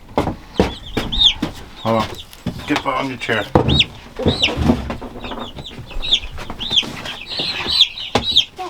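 Egg-laying hens and roosters cluck and squawk as they are handled and moved between pens, with repeated sharp calls over close, animated human talk and shuffling.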